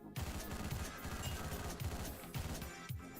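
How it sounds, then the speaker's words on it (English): Assault rifle gunfire in the Hotline Miami video game, rapid clusters of loud synthetic shots in short bursts, with no voice over them. "we need an assault rifle for this screen"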